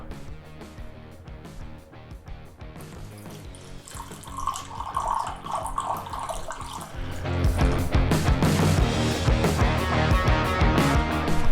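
An energy drink being poured into a glass for a home-made commercial shoot, a liquid stream splashing and fizzing, growing louder and fuller as the glass fills, with no voices.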